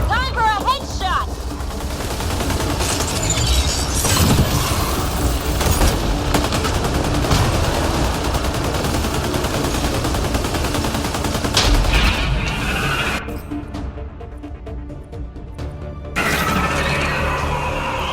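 Sustained gunfire and weapon fire fill a firefight in Mass Effect: Andromeda against a Kadara Architect, a dense loud barrage with mechanical clatter, game voices speaking, and a brief drop in intensity near the end.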